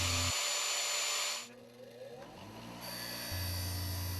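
A disc grinder with a metal cutoff wheel cutting partway through a steel spring clamp: loud, harsh high-pitched grinding close by that drops into a whining spin-down, then picks back up to a steady whine.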